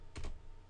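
A command typed on a computer keyboard at a Windows PC: two quick, close key clicks in a short burst, with no voices.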